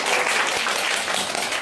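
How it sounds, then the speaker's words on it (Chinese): An audience at a science lecture about baseball bats and physics breaks into applause, a dense, even roar of many hands clapping that continues without a break. "拍拍手。"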